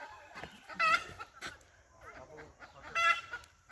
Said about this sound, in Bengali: এখানে আবার মুরগির খামার, মুরগি কক কক করতেছে।